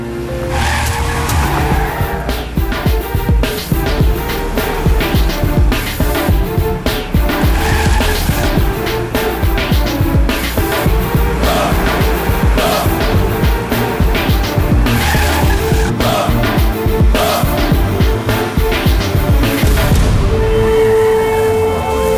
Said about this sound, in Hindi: गाड़ी तेज भगाना यार